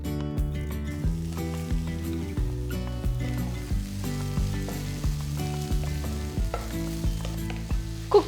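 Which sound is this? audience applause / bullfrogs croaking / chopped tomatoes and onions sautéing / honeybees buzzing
chopped tomatoes and onions sautéing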